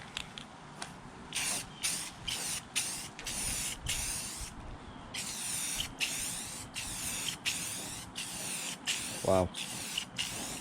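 Rust-Oleum lens tint hisses from an aerosol can onto Camaro taillights in a series of short, close bursts separated by brief pauses, while a voice speaks briefly between passes.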